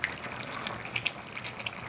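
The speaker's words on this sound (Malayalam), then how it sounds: "ചിക്കൻ നല്ല തിളച്ചു." A pot of Kerala-style nadan chicken curry simmers at a rolling boil, with soft continuous bubbling and scattered small pops and spits close by.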